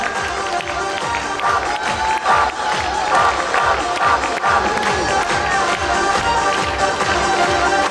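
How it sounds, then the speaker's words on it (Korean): An audience at a stage performance for a young performer cheers and shouts amid rhythmic clapping, a loud, lively crowd with children's voices mixed in and steady beats running through. "우리 준호를 위해서 큰 박수 공연해 주세요"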